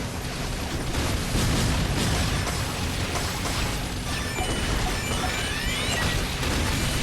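Dense, continuous explosions and crackling bursts in the video game Metal Slug: Awakening roll on without a break, a loud rumbling wash with occasional electronic zaps layered on top.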